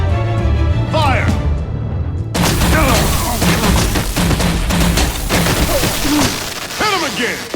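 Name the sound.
gunfire from the video game Batman: The Enemy Within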